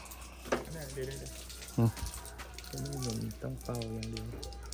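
Running water rinsing parts of a TCL air conditioner during cleaning, a steady low splash and hiss throughout while someone talks over it.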